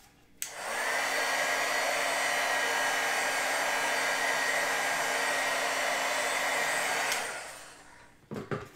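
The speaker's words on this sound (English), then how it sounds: "So I'll heat set it a little bit." Heat tool blowing hot air to set Crayola marker ink, switching on with a click, holding a steady whirring roar for about six seconds close by, then cutting off, followed by faint handling noises.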